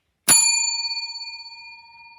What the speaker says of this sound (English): I forgot to ask you to ring the bell.